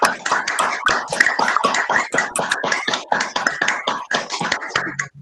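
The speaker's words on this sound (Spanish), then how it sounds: "le vamos a dar un aplauso a Camila" A group claps for Camila after her thesis defense, a steady dense patter of close hand claps filling the whole stretch and tapering near the end.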